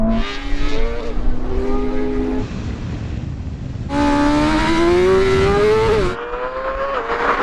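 Ferrari SF90 and BMW M1000 RR motorcycle launch in a drag race, loud engines revving and climbing through gears with rising pitch, a shift pause, then a harder sustained high-revving pull before cutting off.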